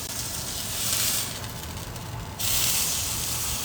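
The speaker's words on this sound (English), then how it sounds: "Sizzle, sizzle, sizzle" Food sizzling in a pan on a home stove, a steady broadband hiss that swells louder in two stretches, close and alone without talk.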